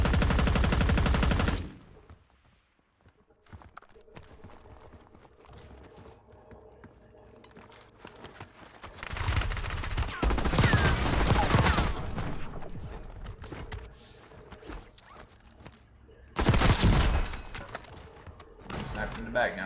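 Gunfire from a gunfight in the battle-royale video game Warzone comes in three loud bursts of rapid shots, with quieter stretches and someone talking in between.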